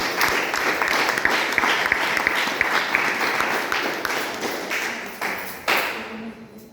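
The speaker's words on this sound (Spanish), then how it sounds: "Démosle un fuerte aplauso al Señor." A church congregation claps loudly for several seconds, a dense patter of many hands with sharp individual claps and thumps standing out, then the applause thins and dies away as a voice begins.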